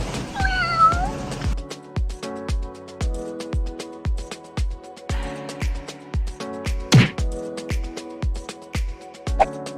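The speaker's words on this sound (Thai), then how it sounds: "คาเฟ่นี้ มีน้องแมวเยอะมาก เรียกว่าคาเฟ่แมวเลยก็ได้ไหม" Cats at a cat café in Rayong, Thailand, meow up close: one drawn-out meow opens, then a steady background patter and more cries follow, with no talking.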